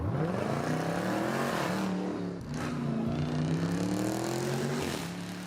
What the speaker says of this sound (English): that car you just watched speed away from federal agents at the scene